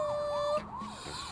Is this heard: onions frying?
no